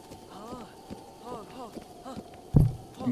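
A horse running in Zelda: Breath of the Wild, its hooves clip-clopping in a steady galloping rhythm, moderately loud, with a sharp thump near the end and a voice heard over it.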